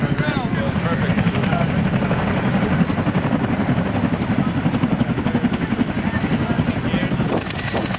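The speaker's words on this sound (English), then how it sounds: "The rotor wash hits them immediately. Dust, noise, wind pulling at their gear." Loud, close rotor thumping and engine roar from a Chinook helicopter near a hangar, a constant fast rhythmic beat that runs unbroken, with a high whine riding on top.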